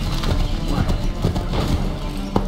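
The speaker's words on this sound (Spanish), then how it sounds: "Caballito." A horse trots in the video game Assassin's Creed III, quick hoof clip-clops with some creaking tack, a close and steady rhythm.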